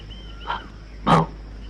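A voice imitates a dog, giving two short bark-like yaps, the second louder than the first.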